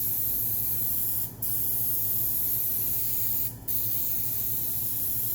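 Spray adhesive hisses from an aerosol can onto a laminate wall panel in a continuous loud, close stream, broken by two brief pauses where the nozzle is released.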